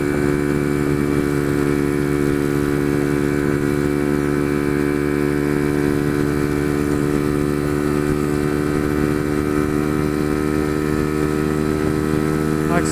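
A Chinese 125cc motorcycle engine holds a steady, loud, droning hum while riding at speed on the road, running continuously without a break.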